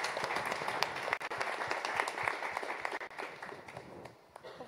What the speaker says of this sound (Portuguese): Salva de palmas para você.